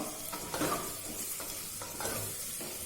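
Minced garlic sizzles and fries in hot oil while being stirred, a steady close crackle with brief scraping stir accents, no talking, during home cooking of a quick egg recipe.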